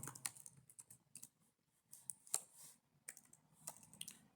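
Quiet, irregular clicking of PHP code being typed on a computer keyboard, keystrokes coming in short bursts with brief pauses, close and alone with no talk.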